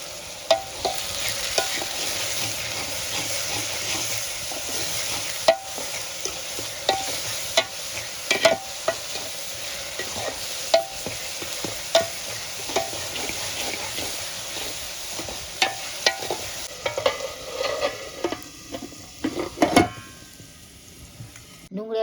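Onions sauté in a pan under a constant close sizzle, with a ladle scraping and tapping the metal in irregular strokes, several sharp clinks standing out near the end.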